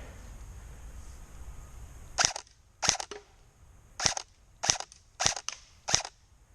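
Arcturus NY-03 M4 airsoft rifle firing downrange: six sharp, isolated shots at uneven intervals, crisp and fairly close, with quiet background between them and no talking.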